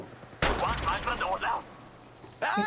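Gunfire rings out in the mobile battle-royale game Apex Legends Mobile, with sharp bursts of shots near the start and end over a player's voice talking in between.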